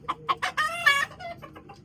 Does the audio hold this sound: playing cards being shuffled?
no